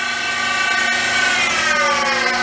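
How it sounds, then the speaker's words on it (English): A power tool runs steadily and loudly throughout, a constant mechanical whine with strong harmonic tones and no pauses. "If you can hear me over the power tools"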